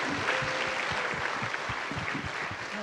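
Clapping comes from a seminar audience for a woman who has just been praised, a steady mid-level patter of many hands lasting a few seconds with a low murmur beneath.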